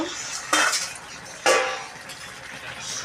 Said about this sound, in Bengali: 5 মিনিট পর আমি ঢাকনাটা এখন খুলে নেব।